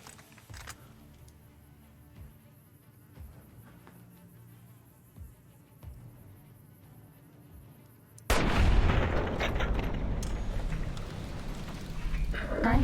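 Gunfire in Fallout New Vegas, an abrupt heavy burst of loud, sustained shooting noise erupting after a long quiet stretch of buzzing game ambience and soft thuds, continuing dense and close to the end.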